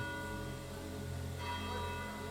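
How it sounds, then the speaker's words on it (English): Sunday church bells ringing over a small village square, sustained tolling tones layered and ringing on, distant and soft, a second bell stroke swelling in partway through, with no voices. "My only companions are the Sunday church bells"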